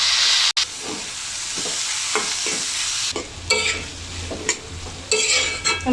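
Cut carrots and potatoes with spices fry in a pan for a samosa filling, giving a loud, steady sizzle with stirring scrapes that grow busier partway through, no talking.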